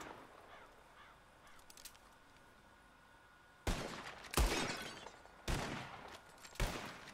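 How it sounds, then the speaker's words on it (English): Revolver gunshots at bottles in the Red Dead Redemption 2 video game, four loud close blasts in an uneven sequence over a quiet outdoor bed with faint crow-like caws before the firing. "Whoever shoots more of these bottles wins."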